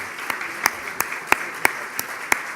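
Applause at a business luncheon of Uruguay's marketing executives association: a steady, moderate wash of clapping from a crowd, with a few sharper, evenly spaced claps standing out above it.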